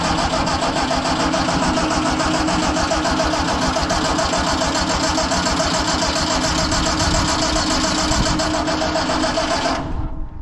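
An Allis Chalmers G tractor engine cranks steadily for about ten seconds in cold snowy conditions without catching, a loud continuous churning rhythm that stops abruptly at the end.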